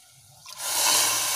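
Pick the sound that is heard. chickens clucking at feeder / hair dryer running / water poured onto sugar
water poured onto sugar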